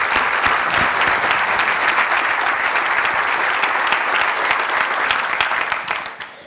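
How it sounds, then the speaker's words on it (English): An audience at a UAB School of Medicine state-of-the-school event gives sustained, dense applause for two leaders. The clapping is close and steady, then fades out at the very end. "So I would ask that we give these two leaders a hand of applause for what they've contributed to UAB"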